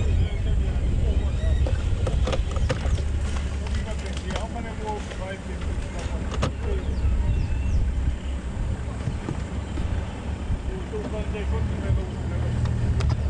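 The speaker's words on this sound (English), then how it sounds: "Somehow this engine is overheating really badly all of a sudden." A safari vehicle's overheating engine runs with a low, rough rumble beneath heavy wind buffeting on the microphone, while people talk over it.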